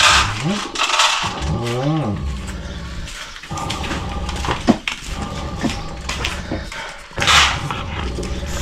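A dog makes whining, yelping sounds amid people talking nearby, with some scraping and crunching noises mixed in.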